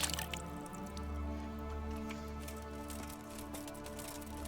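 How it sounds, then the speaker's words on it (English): Washing with water in a video game: steady dripping and squishy splashing at moderate level over a low constant hum, with no voices. "Let's wash ourselves."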